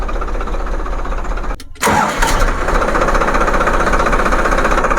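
A tractor's diesel engine runs, cuts out briefly, then starts again and settles into a loud, steady, clattering idle close by.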